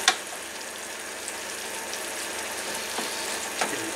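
Seafood paella simmers in broth in a wide pan, giving a steady close bubbling sizzle with a couple of faint clinks, no voices.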